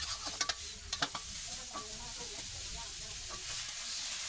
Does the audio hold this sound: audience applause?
no